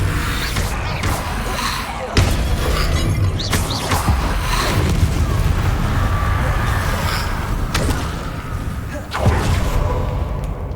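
Incendio fire spells cast repeatedly in the Hogwarts Legacy video game, sharp whooshing bursts with booming impacts at a few moments, loud and close over a dense game soundscape.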